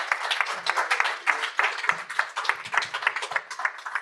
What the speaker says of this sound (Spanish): hay que darles un gran aplauso a ellos